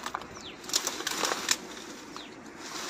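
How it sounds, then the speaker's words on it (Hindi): Small bird chirping outdoors with a few short, thin, high chirps scattered through a faint background hiss, moderately distant and with no voices. "शायद चिड़िया का आवाज।"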